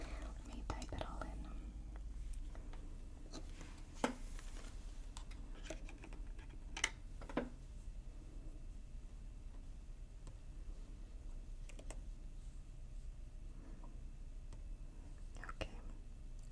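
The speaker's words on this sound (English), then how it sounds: "Let me type it all in." Computer keyboard typing at a library desk, soft scattered key taps and a few sharper clicks, close but quiet, with whispering through most of it.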